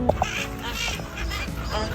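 Birds at Bang Pu, Samut Prakan, calling with a couple of sharp quacking or honking cries at the start, then a busy mix of chatter under people talking nearby.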